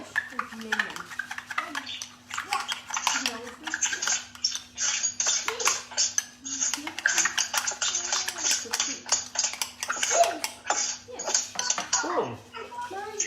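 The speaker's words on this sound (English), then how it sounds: "we're just going to squeeze some lemon juice into the icing, not too much, otherwise it's going to be runny. And we're going to give that a stir." A spoon clinks and scrapes against a mug or bowl as lemon juice is stirred into icing for a carrot mug cake, with repeated light metallic taps while a person talks over it.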